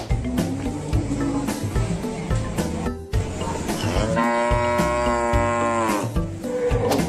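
A toy cow lets out a loud, sustained electronic moo with a strong harmonic tone, held for about two seconds amid busy background music and clatter, with no talking.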